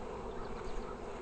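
A honey bee swarm buzzes close and steady, a dense continuous drone with slight wavering swells, loud and unbroken with no voices over it.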